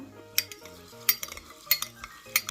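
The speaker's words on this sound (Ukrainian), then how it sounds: "Змішаємо, помиємо гречку." Buckwheat being stirred and rinsed in a pot for a quick student soup: light scraping and a handful of sharp clinks from a utensil against the pot, sparse and close in a quiet kitchen.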